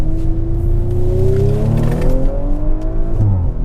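An Audi RS5 on a launch-control start accelerates hard, its engine climbing steadily in pitch through the gears with a loud, close, sustained roar.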